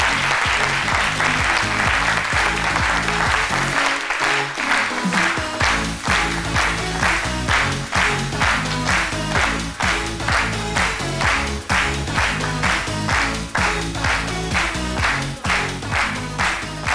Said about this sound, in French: Merci de bien applaudir Liliane